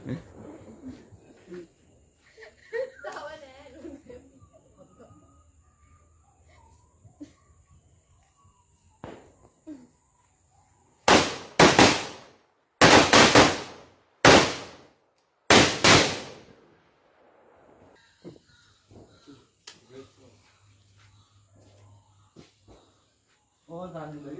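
At a festival, fuse-lit firecrackers go off in four loud, sharp blasts in quick succession. Before and after, there are quiet chirping crickets, footsteps and some distant talk.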